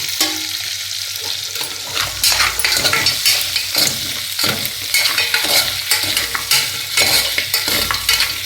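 A spoon stirs mutton paya curry in a sizzling pan, rhythmic scraping and sloshing strokes repeating every second or so over a constant frying hiss, close and fairly loud.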